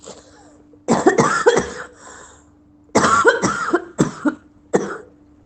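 Repeated coughing in two bursts, several harsh coughs each, close and loud with a short quiet gap between them.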